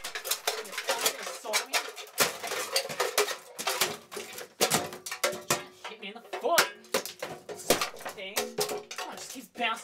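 A Home & Co metal kettle being smashed, with dense, rapid clanging and rattling metal hits close by, irregular and continuous, while a person talks over the noise.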